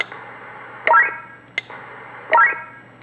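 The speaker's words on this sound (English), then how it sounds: "Space Invader sound, for want of a better word." Space Invader-style roger bleep from a Stabo XM4006E CB radio: two short warbling electronic blips, each a quick rising tone sweep, separated by a sharp click and a background of hiss, heard close and alone.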